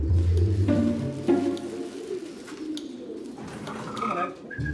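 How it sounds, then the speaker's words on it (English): Racing pigeons at a Yorkshire loft coo in soft, repeated throaty bursts, close and fairly loud, with light rustling and other bird sounds around them. "it must be pigeons"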